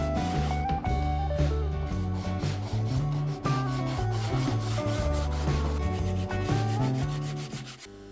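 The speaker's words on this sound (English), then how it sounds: "I'm going to use a big sanding block so I can easily cover" A big sanding block rubs over the wooden hull of an RC boat in steady back-and-forth strokes, the rasping continuous and close over a tonal musical background.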